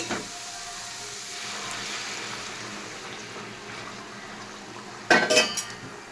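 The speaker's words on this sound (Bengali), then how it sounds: "মশলাটা আমার কষানো হয়ে গেছে। দিয়ে দিচ্ছি গরম জল।" Hot water goes into cooked, fried spice masala in a pan for a prawn and kochu kofta curry. A faint kitchen hiss builds to a brief, loud sizzling splash near the end.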